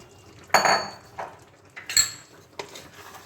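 Utensil scraping and clinking against a cooking pot as fried potatoes are stirred into spiced chicken curry, several separate knocks spaced over a few seconds in a quiet kitchen.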